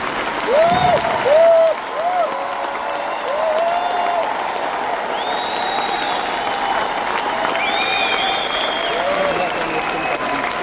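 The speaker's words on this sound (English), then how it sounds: "Keep on clapping." A crowd claps in a sustained, dense patter, with whooping voices rising over it near the start and bright tones ringing above.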